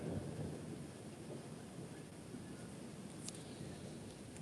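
A thunderstorm with steady rain and low rumbling thunder fills the whole stretch at a constant, enveloping level, with a brief sharper crackle near the end and no talking.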